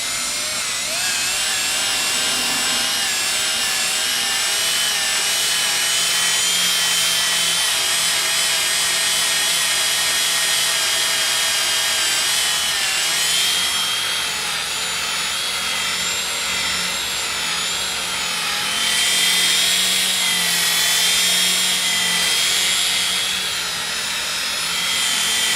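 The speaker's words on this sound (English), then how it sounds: "a little simple buffing little pad like this, and we're gonna use a rubbing compound, and we're gonna buff this scratch right out" A powered buffing pad with rubbing compound whines steadily against a scratched car panel, a loud continuous high motor drone with slight pitch wobble that holds for the whole stretch.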